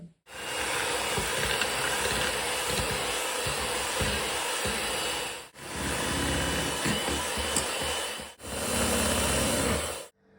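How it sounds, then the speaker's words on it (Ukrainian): An electric hand mixer whisks red velvet cake batter with red food colouring in a bowl, giving a loud, steady high whir. It runs in three long bursts separated by brief stops. "добренько міксером зараз будемо все взбивати"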